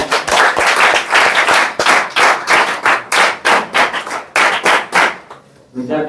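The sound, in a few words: students applauding loudly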